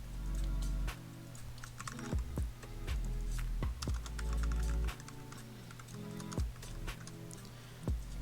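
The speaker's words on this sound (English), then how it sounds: "So I'm not good at typing." Rapid computer keyboard typing while a password is entered on a web login form, with irregular clattering keystrokes and short pauses, moderately close and alone without speech.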